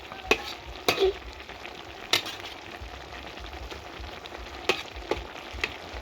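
Cabbage and fragrant herbs stir-frying in a pan, a steady low sizzle broken by several sharp clanks and scrapes of the utensil against the pan, with no voices.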